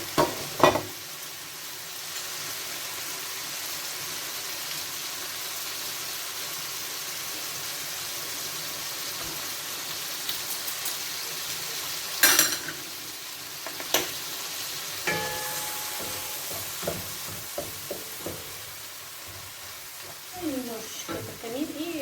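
Tomatoes and garlic fry in a pan with a steady close sizzle, broken by clinks and scrapes of stirring that grow busier toward the end.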